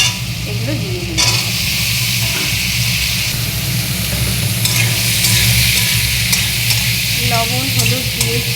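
Fish heads frying with onion and ginger in a wok: a loud, dense sizzle and hiss runs throughout, with occasional stirring scrapes and a faint voice in the background.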